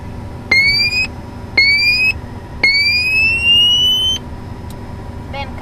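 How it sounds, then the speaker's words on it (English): A Learjet 60XR cockpit overspeed warning horn sounds three times. Each is a loud, rising electronic tone lasting about half a second to a second and a half, with short gaps between them, followed by a faint rapid clicking. "Over speed, we will hear, we will listen to the horn for 3 times."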